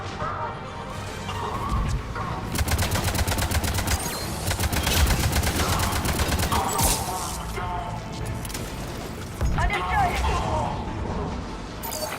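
Rapid turret gunfire from Mass Effect 3 rattles in sustained bursts amid explosive crashes and battle noise, loud and continuous with brief lulls between volleys.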